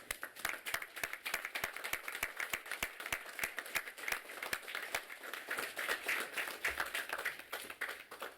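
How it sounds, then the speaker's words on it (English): A graduation ceremony audience applauds steadily, a fairly distant wash of many hands clapping that continues evenly throughout without voices. "show your gratitude to your family and friends with a round of applause"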